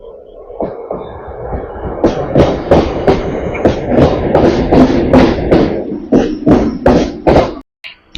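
A Panskura–Digha EMU local train rolling past close by, with loud rhythmic clickety-clack beats from the wheels over a rumbling, rattling background.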